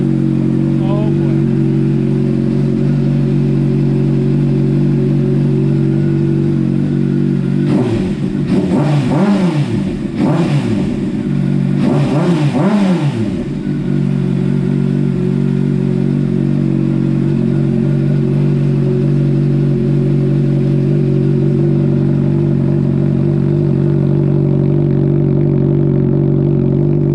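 A warmed-up Honda CBR600RR with a TOCE exhaust idles in a loud, steady drone and is blipped through a short burst of sharp revs before settling back to idle, close and continuous.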